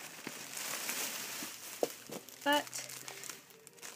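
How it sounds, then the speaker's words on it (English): Plastic packaging crinkles and rustles close by in bursts of dry crackling, while a person speaks softly over it. "so sorry about the crinkling, guys. I should have taken this out."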